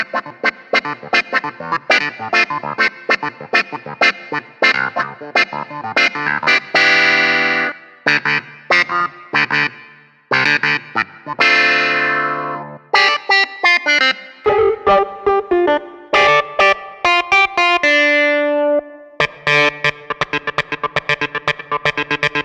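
Yamaha 73-note keyboard played through effects such as distortion, chorus and echo, with rapid chords and melodic runs changing sounds throughout, loud and continuous with brief pauses, no talk.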